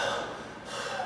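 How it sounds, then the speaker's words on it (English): Heavy, labored breathing from a single person during a drama radio exercise, steady hissing breaths close to the mic with no talk, about a second long. "Maybe a little bit of heavy breathing."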